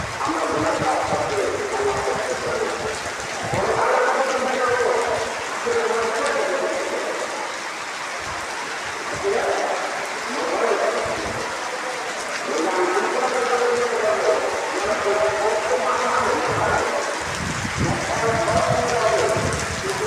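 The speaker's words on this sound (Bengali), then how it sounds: "প্রকৃতির এই সৌন্দর্য বৃষ্টি দেখতে থাকুন।" Heavy rain pours steadily during a Kalbaishakhi storm, a dense continuous hiss of drops on surfaces that rises and falls slightly in intensity throughout, close and fairly loud with no talk.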